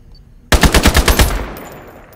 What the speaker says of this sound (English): Is that the AK-12?